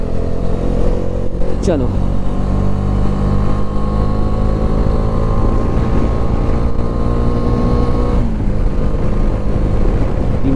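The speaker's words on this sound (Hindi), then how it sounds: "चलो भगाते हैं बाइक।" A motorcycle speeds along a mountain road at night on the way from Nubra Valley to Pangong Lake in Ladakh, its engine a steady loud drone mixed with heavy wind rush on the microphone, with a rider speaking briefly over it.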